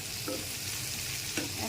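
Lightly browned onion and freshly added pumpkin sizzle in a hot pan, a continuous close frying hiss broken by a couple of brief scraping stirs, with no talking.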